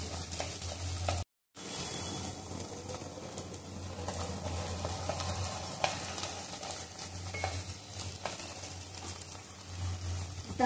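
Peanuts frying in a chili and cumin tempering sizzle steadily in a pan for a fasting-style peanut dish, a continuous close crackle with occasional stirring scrapes and a brief dropout near the start.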